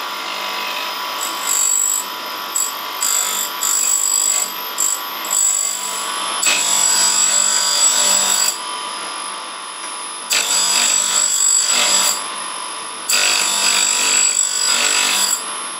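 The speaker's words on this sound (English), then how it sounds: "I'm cutting on the back of the wheel so I'll reverse the wheel and grind on this side" A bench grinding wheel sharpens a lathe cutting tool in a home workshop, the steady motor whine broken by bursts of harsh, bright grinding as the steel touches the wheel again and again, loud and close with no talk.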